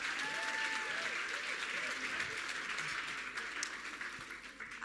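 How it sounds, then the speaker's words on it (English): Audience applause at an awards ceremony fills the room with steady, even clapping from a crowd, somewhat distant and soft, continuing for the whole stretch and gradually tapering. "Can we give her another wonderful round of applause?"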